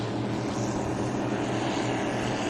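Offshore superboat engines at a race start on Lake Macquarie, a loud, dense, continuous roar that holds steady throughout with no voices over it.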